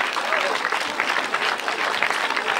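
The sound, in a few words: applause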